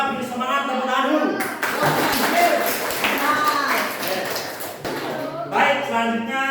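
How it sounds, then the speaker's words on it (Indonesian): Classroom applause from students before group presentations, a burst of clapping in the middle of the clip with a teacher's voice speaking before and after it. "Kita beri semangat tepuk tangan dulu."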